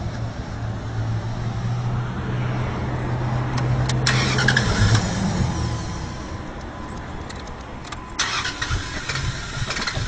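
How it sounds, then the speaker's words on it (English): A water-powered truck being started: a steady low engine drone under broad mechanical noise, with brief sharper bursts of cranking or sputtering partway through and again near the end. No one speaks. "We'll start it and make sure that any fuel that was left in the fuel rail is burned out real quick."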